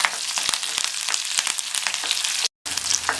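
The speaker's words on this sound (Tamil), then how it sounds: "இந்த வெங்காயம் ஓரளவு கலர் மாறி வர வரைக்கும் வதக்கிக்கணும்." Small onions and curry leaves sautéing in oil for sambar, a steady close sizzle with light stirring clicks throughout and a brief dropout near the end.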